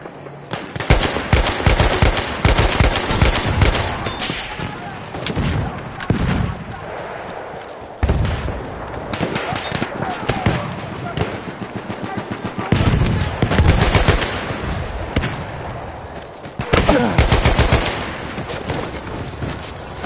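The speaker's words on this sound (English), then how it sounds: "Machine gun right there!" Rapid bursts of machine gun fire in a Battlefield 1 World War I battle, loud and sustained across the clip, with repeated automatic volleys and heavy gunshots stacking over one another.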